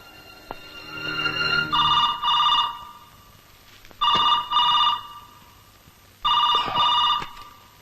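Telephone ringing in a Malayalam movie scene, three separate bursts of an electronic double ring spaced a couple of seconds apart, loud and close with quiet gaps between.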